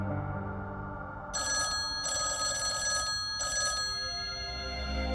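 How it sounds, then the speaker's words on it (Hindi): A telephone rings in several short bursts with brief gaps between them, clear over a quiet background. "समीर का फोन।"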